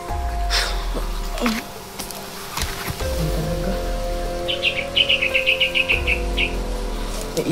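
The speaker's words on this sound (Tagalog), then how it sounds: "May ibon pa." Birds chirp in a quick run of repeated high tweets partway through, with a few scattered calls earlier, heard over low outdoor background rumble and some handling noise.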